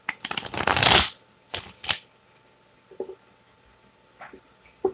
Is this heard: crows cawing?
no